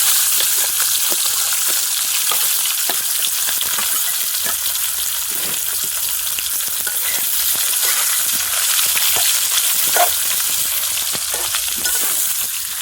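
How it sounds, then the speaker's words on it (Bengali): Chopped onion and garlic frying in hot oil in a pan for a Bengali curry, a steady bright sizzle with crackling pops throughout, close and loud with no talk. "পেঁয়াজটাকে লাল লাল করে ভেজে নেবো।"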